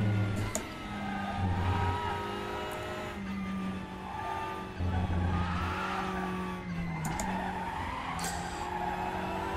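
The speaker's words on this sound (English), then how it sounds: "the rear again, which is probably not rotating, therefore it goes squeal when it drops" Front-wheel-drive WTCR touring car in the Raceroom racing game, its rear wheel dropping back down while cornering on three wheels, giving a loud steady engine drone with repeated tyre squeals over it.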